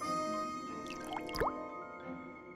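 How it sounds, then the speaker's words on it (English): A single clear water drop plinks down partway through, bright and close, over a soft sustained musical background. "Every little drop."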